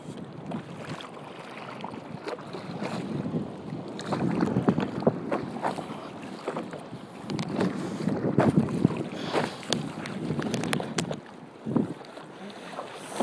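Paddleboard out on the ocean a few miles offshore on a calm, low-wind day, with irregular water splashes and paddle strokes over breezy wind buffeting, close and steady, no talk.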